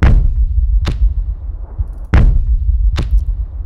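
Battlefield 3 close core bass sound effect from the video game: deep, heavy thuds in an irregular pattern with a rumbling low tail between them, sitting up close and loud with no voices.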